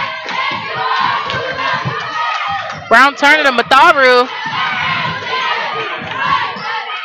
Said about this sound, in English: The crowd breathing life into this Mustang team.